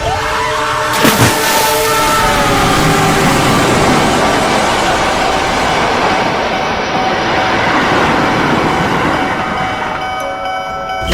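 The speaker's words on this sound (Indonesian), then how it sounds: "Awas ada kereta api." Train rushing past at a railway crossing, a loud continuous rumble with wheel clatter and a ringing tonal hum, close by and gradually easing toward the end.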